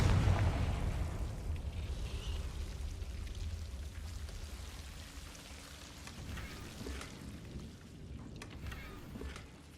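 A Confringo fire spell explodes in Hogwarts Legacy, a loud booming burst at the start that decays into a long rumbling, crackling tail over the rest of the clip.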